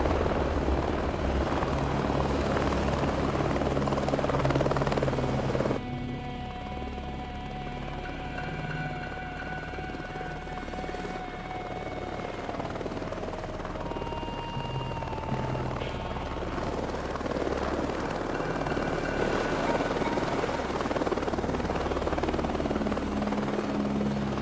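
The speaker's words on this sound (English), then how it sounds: "Big Deal's got his own helicopter service instead" A helicopter in a movie scene flies past, its rotor and engine making a loud continuous whirring drone that shifts in pitch and intensity partway through, with no voices over it.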